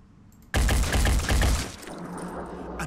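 A loud, close burst of rapid gunfire in the tactical strategy game Phoenix Point starts abruptly and pounds in repeated shots for about a second, then fades into a lingering rumble.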